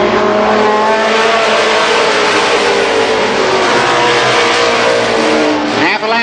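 Stock cars roar around a speedway during a 1990 Superstar Shootout at Columbus Motor Speedway, a loud continuous engine drone filling the air with a pack sound that swells and shifts slightly near the end.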